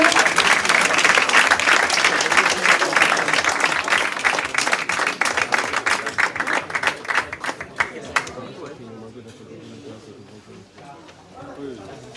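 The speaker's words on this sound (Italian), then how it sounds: "Facciamo un bel applauso a questi pugili al centro ring." Spectators at an Olympic-style boxing event in Verona applaud the boxers at ring centre, with brisk dense clapping and crowd noise that thins into scattered claps and murmuring after about eight seconds.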